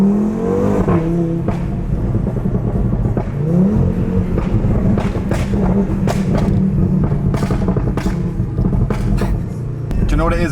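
A 650bhp hybrid turbo Audi RS3 engine roars and revs up hard, pitch climbing through gears with a loud close rumble, while people talk over it.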